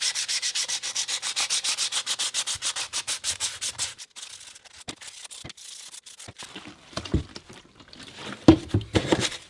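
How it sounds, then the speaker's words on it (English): Futures fin boxes set in a wooden surfboard are roughed up by hand with sandpaper: quick, even scratchy strokes at first, then slower, scattered rubs and a few knocks, close and alone. "Give the fin boxes a quick roughing."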